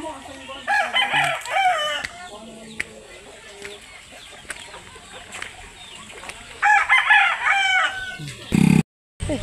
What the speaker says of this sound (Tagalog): namahog na sa iyang manok.